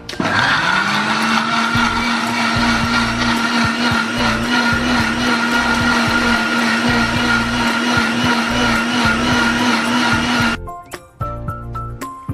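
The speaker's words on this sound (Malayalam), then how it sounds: "ഇനി നമുക്ക് ഈ സ്റ്റാർ ഫ്രൂട്ട് ഒന്ന് അരച്ചെടുക്കണം" A mixer grinder blending chopped star fruit with no added water, a loud steady motor whir running about ten seconds before cutting off abruptly, leaving brief clatter and quiet at the end.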